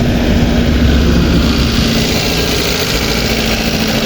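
A Suzuki Baleno petrol engine, just started, idles with a steady, loud mechanical drone and a constant low hum that holds unchanged throughout, with no talking.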